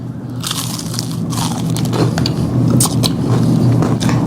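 Biting and chewing into crunchy, thick Detroit-style deep-crust pizza, a close, loud, continuous crunching that builds and carries on for several seconds.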